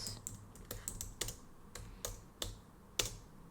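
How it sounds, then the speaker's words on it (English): Keys clatter on a computer keyboard in an uneven rhythm of sharp, close taps with brief pauses, and no voices. "I'm just gonna leave my typing sound here."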